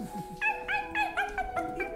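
A performer at a live improv comedy show imitates a puppy with a run of about seven short, high yipping barks in a steady rhythm, close and fairly loud, with no speech over them.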